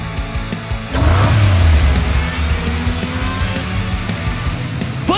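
A race car engine revs up hard in the Hot Wheels Unlimited video game, a loud rising whine that holds steady with a continuous motor drone and no voices.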